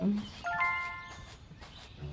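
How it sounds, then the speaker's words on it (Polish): A gong is struck once in the Scary Teacher video game, giving a short metallic ring that quickly fades, with a voice speaking around it. "Walnę ci w gonga."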